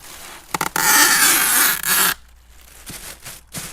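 Plastic sheeting rustles and crinkles loudly as it is laid over hydrangea cuttings, a sustained crackling burst followed by a few softer handling rustles, alone without talk.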